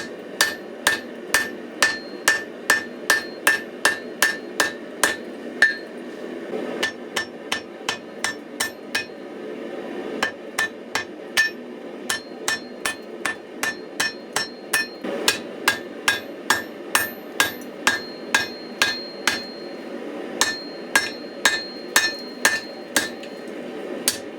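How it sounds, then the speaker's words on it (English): A hammer beats down on a twisted Damascus steel billet in a steady run of sharp, ringing metallic blows, close and loud, pausing briefly a couple of times before the rhythmic strikes resume. "This will definitely test the sand my weld when you're beating down on it like this."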